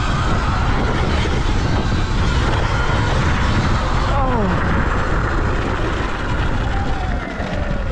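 Sur-Ron LBX electric motorbike fitted with a TORP TC500 controller at full throttle, a loud continuous rushing whine and road noise throughout, with a short rising tonal sweep midway.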